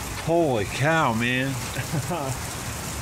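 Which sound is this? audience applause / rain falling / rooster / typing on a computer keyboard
rain falling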